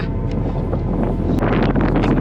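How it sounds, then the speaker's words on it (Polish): Strong, steady wind roars across an exposed Scottish mountainside, buffeting the microphone with continuous loud rumbling gusts and no break throughout. "strasznie się strasznie się rozhulał wiatr, bardzo wieje"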